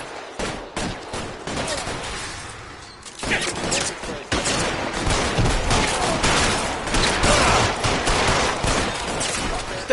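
Dense video game gunfire fills the scene as covering fire rages in L.A. Noire, bursts of shots and automatic fire cracking continuously, loud and close, with a brief lull near the three-second mark before the barrage resumes.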